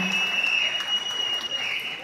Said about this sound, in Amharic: ጭብጨባ ያስፈልጋል።